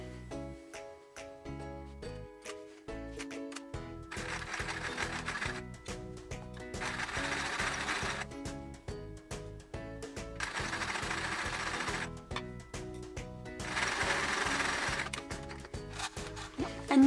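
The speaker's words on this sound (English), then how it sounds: "I'm going to be stitching the centerpiece to one of the edge borders." A sewing machine stitches quilt borders in rapid, rhythmic bursts of mechanical clatter, pausing and restarting several times, close and without talk.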